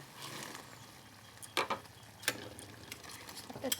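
Soybean chunks are stirred into a boiling curry with a utensil, making faint bubbling with a few sharp scraping clinks against the pot, close and quiet, with no talking.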